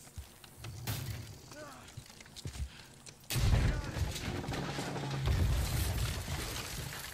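House being pulled down in Red Dead Redemption 2, with scattered creaks and knocks, then a loud crash of splintering timber that turns into a rumbling collapse, with speech heard along with it.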